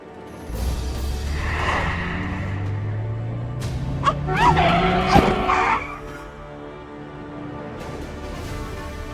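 A motorbike braking hard and skidding on a road: the engine note climbs steadily, then a sharp tire squeal and scraping rise to a loud peak before fading back to a low rumble.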